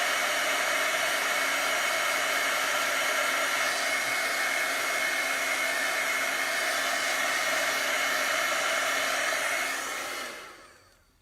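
Handheld hair dryer blowing on chalk paste over a wooden sign, a loud, steady whooshing roar running unbroken for about ten seconds before it is switched off and winds down.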